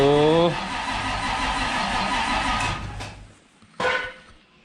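An old car with a weak battery cranks for several seconds as the engine turns over, then goes quiet before a short second crank burst, all close by; a voice speaks over the start.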